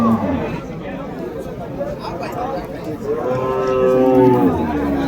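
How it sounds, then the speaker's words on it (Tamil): Heifers and other cattle moo at the Vaniyambadi cattle market, a drawn-out bellow rising clearly over a busy backdrop of crowd chatter and livestock noise, with someone talking nearby. "ஸோ ஒரு ஜோடி இருக்குது பாருங்கள். வளர்ப்பு கிடாரிங்க தான், நல்ல தரமான கிடாரிங்க."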